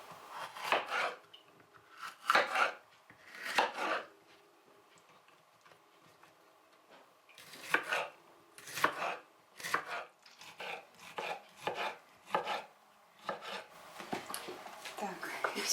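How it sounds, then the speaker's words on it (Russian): A knife chops peppers and tomatoes into strips or cubes, close and fairly soft, coming in irregular bursts of quick cuts with pauses between them. "Соломкой или кубиками нарезаем перец и помидоры."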